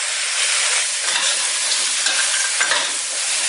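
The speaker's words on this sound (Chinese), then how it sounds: "炒均匀后将蒜放进来，将蒜炒香" Garlic is stir-fried with pork trotters for a Hakka-style stew, seasoned with salt, light soy sauce and dark soy sauce, producing a loud, steady hissing sizzle with faint stirring scrapes and no speech.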